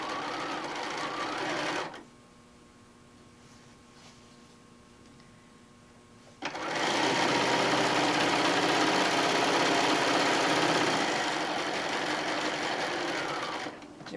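A sewing machine stitches fabric around a corner in two bursts: a short run, a pause of several seconds with quiet background hum, then a longer steady whirring stretch close by.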